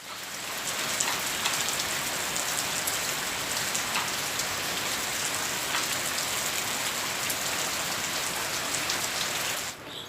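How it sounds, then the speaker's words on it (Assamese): Rain falling steadily on surfaces, a dense even hiss of drops lasting the whole stretch with no voices, ending abruptly. "বতৰটো দেখিছে নহয় পুৱাৰ পৰা এনেকৈ আছে বৰষুণ দি আছে"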